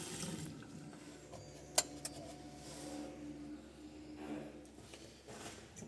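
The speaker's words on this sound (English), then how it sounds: "Now we let the water run to pull out the air of the tank." Hot water runs from a Quooker boiling-water kitchen tap during installation to purge air from the tank, giving a faint, steady rushing flow with a couple of brief clicks.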